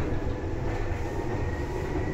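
Inside a Seibu 2000 series train, set 2089F, running as a local from Ikebukuro to Kiyose near the resistor unit, a loud steady rumble of motors and wheels fills the cabin with no break and no voices.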